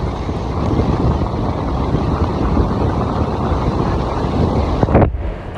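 Steady, loud wind buffeting from a car driving at about 40 mph on the way to work, continuous throughout with a brief sharper gust near the end.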